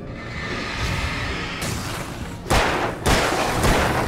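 Gunfire in the video game Alan Wake: two loud, sharp broadband shots about half a second apart, cutting through steady noisy game ambience without talk.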